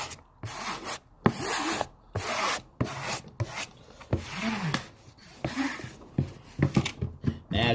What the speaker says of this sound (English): I grab my scraper and I just squeeze it pretty much down to the board